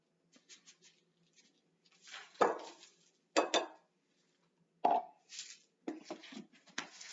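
Two cups of dry oats tipped into a bowl of granola bar mix, several soft rattling pours and scrapes separated by pauses, close and fairly quiet.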